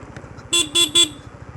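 A motorbike horn gives three short, loud honks in quick succession while the bike moves along a road, with a low, regular engine putter underneath.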